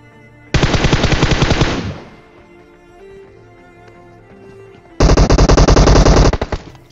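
Two long bursts of rapid automatic gunfire from a mobile shooter game, loud and close, separated by a quiet stretch of game background sounds.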